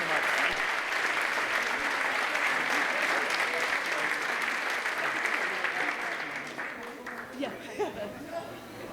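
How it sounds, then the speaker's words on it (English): A symposium audience claps loudly and steadily with a murmur of chatter mixed in, and the applause thins and fades toward the end as a few scattered claps and voices linger. "Please give him another round of applause"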